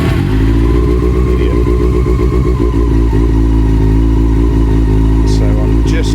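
A Honda CB400 Super Four four-cylinder motorcycle engine idles and revs loudly and steadily up close, with a voice speaking over it.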